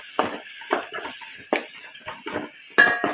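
Tomatoes being sautéed in a pan, a spoon scraping and clinking against the metal in a series of short strokes with only faint frying underneath.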